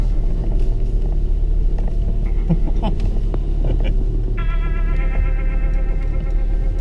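A Land Rover Defender pulls away in second gear on the muddy jungle track at the Land Rover Experience in Solihull, its engine a steady low rumble close by, with a brief high electronic tone near the end.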